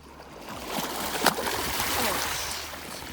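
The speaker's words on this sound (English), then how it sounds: "Looks like the waves can kick up a little here." Small waves washing and splashing against the rocky shore of Lake Huron near Rogers City, a soft continuous rush of water with a few brief splashes, heard from close by without talk.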